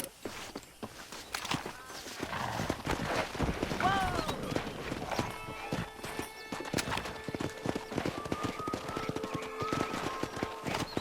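Wild horses gallop in the Western video game Red Dead Redemption, their hooves clattering in a dense, continuous clip-clop with a neigh rising through the middle. A voice talks over part of it.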